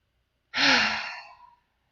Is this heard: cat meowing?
no